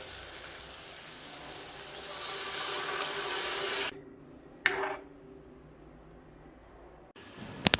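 Water runs steadily into a cooking pot for a few seconds, then stops, followed by a brief splash and quiet; water starts again briefly at the end.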